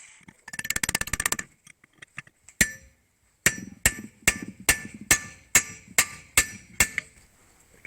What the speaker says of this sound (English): chisel this off now